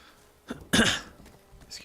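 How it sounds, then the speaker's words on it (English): A person coughs once sharply at close range, a short harsh burst with a faint throat sound just before it, then quiet. "Excuse me while I cough a little."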